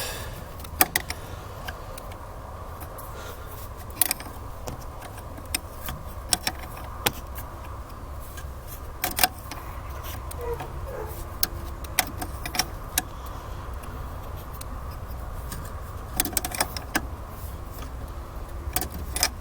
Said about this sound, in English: grab a couple wrenches